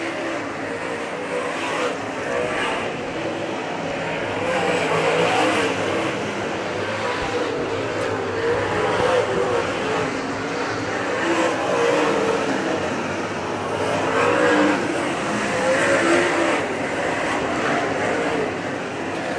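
Late model race car engines roar continuously at a distance during a feature race, rising and falling as cars pass around the track, with a steady crowd-like wash underneath.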